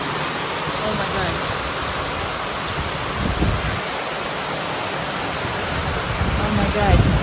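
Heavy typhoon rain pours down in a steady, dense roar that swells louder toward the end, with brief gusty surges.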